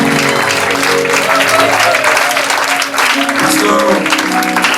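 A congregation applauds in acclamation at a night vigil church service, with loud, dense clapping under sustained crowd voices and music that continue throughout.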